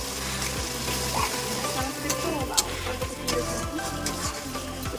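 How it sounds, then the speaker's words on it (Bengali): Vegetables fry in a pan with spice paste, a steady close sizzle broken by repeated scraping strokes of a spatula stirring the mixture. "আমার তরকারিটাকে বেশ ভালো করে কষাবো"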